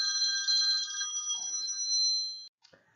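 A telephone rings with a steady electronic trill that holds for about two and a half seconds, then cuts off abruptly, leaving a brief faint shuffle.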